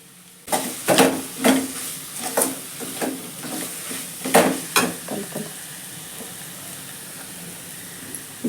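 Okra (lady's finger) stir-fried in a pan with salt for lady's finger rice, heard as a run of loud rhythmic scraping stirs over a steady sizzle that fades and thins toward the end.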